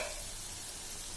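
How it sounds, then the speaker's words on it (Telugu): Okra frying in hot oil in a pan, a close, dense hiss of sizzling that holds steady and fairly quiet throughout the short moment. "హీట్ అయింది ఆయిల్. ఇప్పుడు బెండకాయలు వేసుకుందాం."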